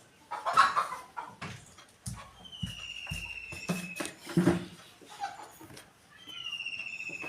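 Ducks call and cluck at a lake, on the bank and in the water, scattered bursts with quiet gaps and some faint background rustle.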